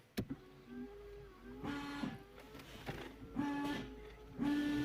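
A Skoda Octavia Tour's windshield washer pump whines in four short bursts, close by, with a faint spray and the car's electrical hum between them.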